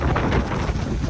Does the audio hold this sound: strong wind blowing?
yes